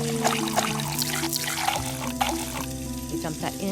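Water poured from a cup into a container in a video game puzzle, a soft splashing pour running under game music with steady tonal lines throughout.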